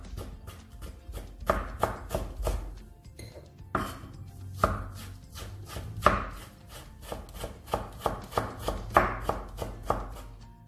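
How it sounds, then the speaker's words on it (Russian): Broccoli cut into rough pieces with a kitchen knife on a board: a steady run of crisp, close chops, repeated regularly with brief pauses, with no talking. "Брокколи нарезаем в произвольной форме."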